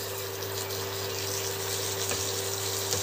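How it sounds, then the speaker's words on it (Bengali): Minced meat frying on a high flame in a pan, a steady dense sizzle with a constant hum underneath and a faint stir or scrape near the end. "এই অবস্থায় হাই ফ্লেমে আমি কিমাটাকে হতে দেব, আর মাঝে মাঝে এরকমভাবে হালকা করে নাড়িয়ে দেব।"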